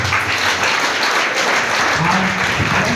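An audience claps together in a dense, sustained round of applause that fills the room at steady volume, with faint voices underneath, during a talk on network marketing basics.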